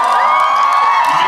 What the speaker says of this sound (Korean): 이어서 여러분 함성 준비.